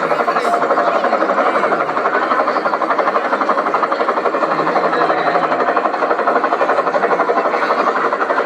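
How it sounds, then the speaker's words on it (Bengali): An air force rescue helicopter approaches a train crash site, its rotor a loud, fast, steady thumping chop that keeps an even pulse throughout. "ওই যে আস্তে আস্তে হেলিকপ্টার আসছে।"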